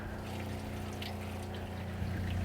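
Cold water runs steadily from the tap of a corn roaster, fed by a battery-powered pump, with a continuous close flow and low pump hum.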